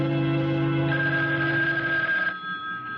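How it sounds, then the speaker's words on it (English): A telephone bell rings loudly at night in a quiet room, a sustained electric ring cutting off and then starting again, with no talk over it. "wake up, the phone"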